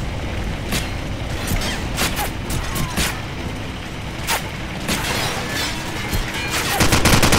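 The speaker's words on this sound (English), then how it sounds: "Flashbang out." Call of Duty 4: Modern Warfare gameplay brings a flashbang burst and bursts of rapid gunfire, loud and dense throughout, with a heavier barrage of shots building toward the end.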